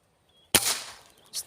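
A speargun fired at tilapia fish at a river spot, one sharp close snap followed by a short splashy decay and a softer second burst.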